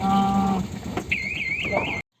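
An alarm goes off as a vehicle enters an automatic toll-collection lane by mistake. A few steady tones are followed by a shrill, warbling electronic siren that lasts about a second and then cuts off abruptly.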